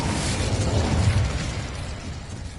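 An Incendio fire spell cast in Hogwarts Legacy, a loud burst of whooshing flame that swells briefly and then fades into a dense roar over its last second and a half.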